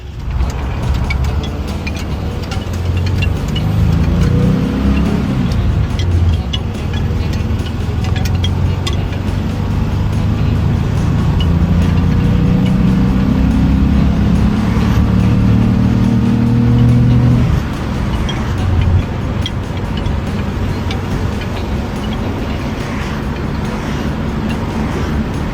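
A camper bus engine on a test drive running on a rigged-up ignition setup, a loud steady drone that rises as it revs and accelerates and then settles back, with road rumble throughout.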